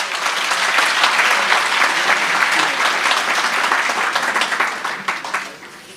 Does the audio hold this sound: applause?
yes